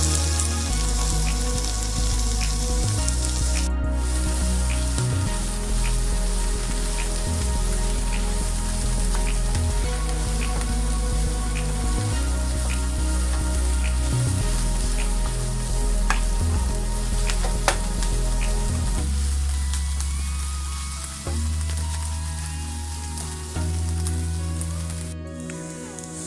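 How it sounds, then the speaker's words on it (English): Onions saute for lyonnaise potatoes in a pan over medium or low heat, sending up a loud, continuous sizzle and crackle that lasts throughout, with steady background music beneath. "Just saute them under some medium heat or low heat until they are soft."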